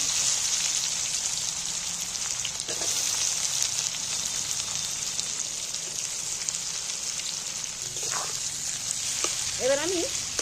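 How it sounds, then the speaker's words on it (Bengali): Chopped onions fry in hot oil for a mutton curry, giving a steady bright sizzle throughout, with a few spoon scrapes and stirring clatters near the end. "এবার আমি তেলের মধ্যে পেঁয়াজগুলোকে ভালো করে লাল লাল করে ভেজে নেব।"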